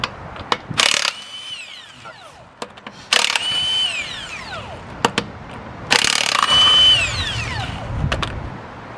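An impact wrench hammers off the wheel lock and lug nuts on a 2008-2013 Nissan Rogue in three loud, rattling bursts, each winding down with a falling whine, with clanks and handling noises between.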